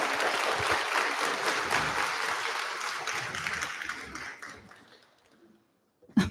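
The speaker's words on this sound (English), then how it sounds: "Can we give a round of applause for our national winners?" Audience applause at the Ingenious+ national awards ceremony, a dense, loud crowd clapping that thins and fades out over several seconds, followed by a brief isolated sound at the very end.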